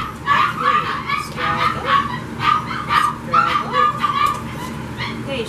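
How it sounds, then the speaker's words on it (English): A young puppy held on her back during a restraint test whimpers and yips almost continuously, the cries close and fairly loud, with a person's voice low in the background. "gently roll the puppy on her back"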